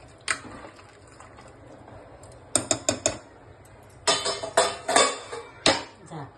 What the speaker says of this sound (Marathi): झाकण लावते कुकरचं.